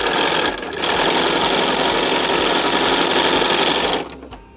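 A sewing machine chain-sews quilt block fabric, running steadily and loudly up close for about four seconds with brief pauses near the start and end.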